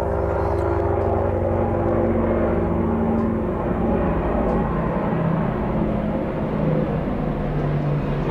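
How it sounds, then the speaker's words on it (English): A helicopter drones loudly overhead in a steady, rumbling throb that fills the whole stretch without fading. "Wait for that helicopter to pass."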